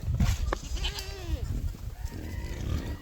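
Goats in a farm herd bleat in a few short, wavering calls over a busy, close background, with no talk.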